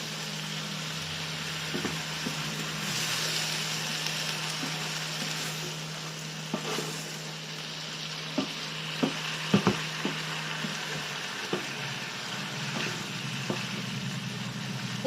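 Vegetables and bacon lardons fry in a pan with a steady soft sizzle throughout, broken by occasional sharp scraping and clacking taps of a utensil stirring, close and moderate in level, with no voices.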